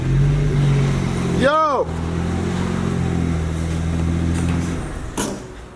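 A BMW N54 engine on a Stage 2+ tune with a race intercooler pulls hard in second gear, a steady droning roar heard from inside the car, with one short shout from an occupant partway through.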